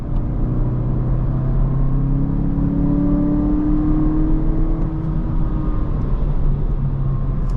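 A naturally aspirated Honda Civic Si engine revs steadily and loudly up close, its tone rising and holding with a smooth, sustained whir and no talking.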